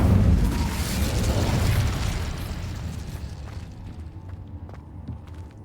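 An Incendio fire spell in Hogwarts Legacy erupts in a loud whooshing, roaring blast of flame that swells and then fades over several seconds, with scattered small crackles and ticks trailing off.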